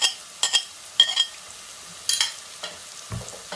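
Masala with chopped green chilies and tomatoes cooks in a pan for a lobia or rajma dish, giving a soft, quiet sizzle broken by short, intermittent scraping strokes of stirring.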